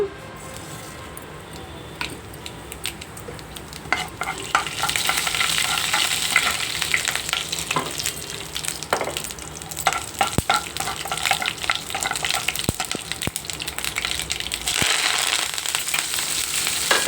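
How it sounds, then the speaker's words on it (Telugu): Onion, curry leaves and dried red chillies hit hot oil for batani fry. The sizzle starts quiet, then swells into a loud, crackling fry a few seconds in, with stirring scrapes and spits scattered through. "నేను ఆల్రెడీగా ఆయిల్ వేసుకున్నాను"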